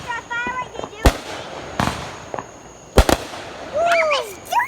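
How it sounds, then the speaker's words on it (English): Fireworks burst in a night display, several sharp loud bangs spaced a second or two apart with crackles and whistling trails between, while people talk and react nearby. "Right after a firework, they do it."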